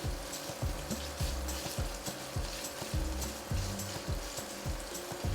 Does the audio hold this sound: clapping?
no